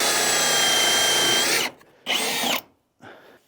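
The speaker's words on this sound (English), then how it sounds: "ready to drill through the top plates for our tin tube. Got my spider bit, ready to go." A power drill with a spider bit bores through a wooden top plate, a loud steady whine for over a second, then two shorter bursts as the bit breaks through.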